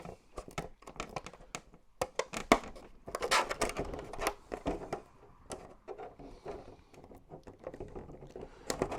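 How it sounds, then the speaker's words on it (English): Scissors snipping a V-shaped notch into a clear plastic body shell for an HPI Baja 5B 1/5-scale gas RC car, with a run of close, quick crinkly cuts and rustling of the stiff plastic sheet. "Now I'm going to cut a V."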